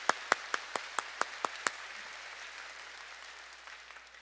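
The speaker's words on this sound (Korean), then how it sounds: "믿으면 박수로 하나님께 영광 돌려" A church congregation at a worship service claps in unison: about eight sharp, evenly spaced claps in quick rhythm, then the sound drops away to quiet room tone with no talking.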